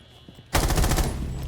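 Rainbow Six Siege gunfight: after a brief near-silent moment, a loud burst of rapid automatic gunfire erupts and continues steadily to the end.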